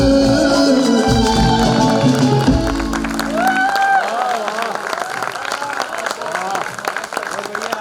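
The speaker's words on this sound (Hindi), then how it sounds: "तालियों की गूंज ही बता रही है पेशकश कितनी सुंदर थी" Audience applause with scattered clapping breaks out as a Hindi song performance on stage ends, the music fading out first while a host starts talking over the lingering claps.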